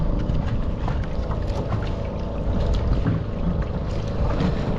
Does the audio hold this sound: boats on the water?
yes